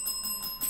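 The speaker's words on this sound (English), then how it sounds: "And that's the bell" A bell at a school quiz competition marking the end of a match, a brief bright ringing tone held steady and fairly soft, without talk.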